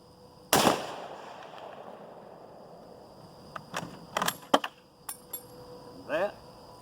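A 6mm Remington rifle firing a Hornady 75-grain V-Max load lets off one sharp, loud shot. Scattered light metallic clinks and handling noises follow a few seconds later.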